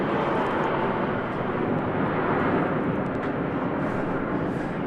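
A Jetstar airliner going around at Christchurch Airport in foggy weather, a loud, continuous broadband jet roar held steady throughout and heard from a distance, with no talk.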